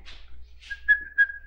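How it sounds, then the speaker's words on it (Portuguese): A person whistles a few short bright notes, with a sustained tone broken by two louder chirps, close and clear in a quiet room. "Assobio."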